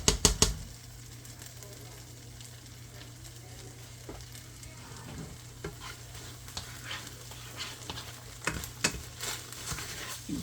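Two pats of margarine melting in a pan with eggs already cooked, a soft sizzle with scattered pops and a few sharp scraping clacks near the start.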